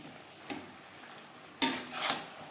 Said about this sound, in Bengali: এক দু মিনিট নাড়াচাড়া করে নেওয়ার পর দিয়ে দেবো বেগুন